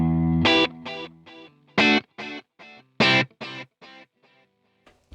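Electric guitar played through an Echoboy delay plugin, with reverb switched off: a series of strummed chords, each followed by fading repeats that trail away into near silence.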